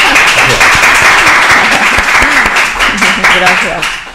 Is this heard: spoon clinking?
no